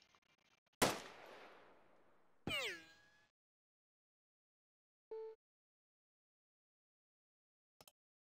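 Gunfire in the Jagged Alliance 1.13 video game: a loud, sharp shot with a long decaying tail, a second burst soon after, then a brief tonal chirp and a faint double click near the end.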